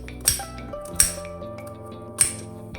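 A knife chops raw green mango into small pieces on a board, three sharp, separate knocks spaced about a second apart, close and clear with no voices.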